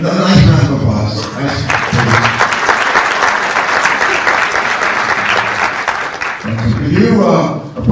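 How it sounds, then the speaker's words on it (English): An audience at a ribbon-cutting ceremony for a school STEM hub breaks into a round of applause, loud close clapping in the middle with someone talking over the start and end. "No, nice round of applause."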